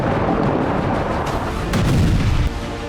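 Bombs explode in Rafah: loud, continuous rumbling blasts and booming crashes, close and heavy, with no voices over them.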